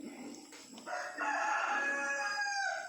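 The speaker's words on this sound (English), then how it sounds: "cockerel chasing the chicken." A cockerel crows once, fairly near and clear, a long rising then held call over faint outdoor background.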